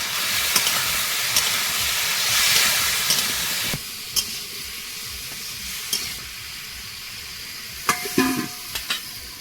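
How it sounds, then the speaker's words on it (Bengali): Taro fries in oil left over from frying fish, a loud steady hiss that drops in level partway through, broken by scattered clinks and scrapes of stirring. No one speaks. "মাছ ভাজার তেলেই চাপিয়ে দিয়েছি এটাকে এখন ভালো করে ভেজে নেব"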